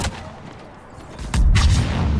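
Weapon fire in a Mass Effect 3 multiplayer match, with a sharp shot near the start and a heavy, booming burst about halfway through that rumbles on loudly to the end.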